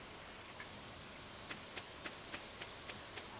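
Rain in the farming game Stardew Valley, a steady hiss of falling drops with faint ticks spaced roughly every third of a second, quiet and even throughout.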